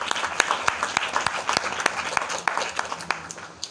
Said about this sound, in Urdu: خداوند کے جلال کے لیے تالیاں بجائیں گے۔